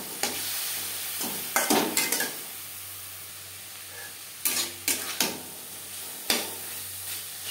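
Vegetables with tomato and coconut paste fry in a pan for a Bengali niramish motor dal, a soft steady sizzle broken by sharp scraping stirs of a spatula against the pan in irregular clusters.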